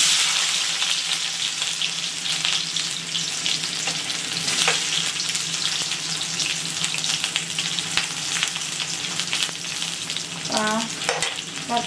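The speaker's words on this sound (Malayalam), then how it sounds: "കടുക് പൊട്ടി. നമുക്ക് അതിലേക്ക് ഇനി വെളുത്തുള്ളിയും മുളകും ചേർക്കാം." Garlic and chilies fry in hot oil with spluttered mustard seeds for a crab masala, giving a steady, loud broadband sizzle with crackling pops throughout and a few stirring scrapes near the end, with no talking.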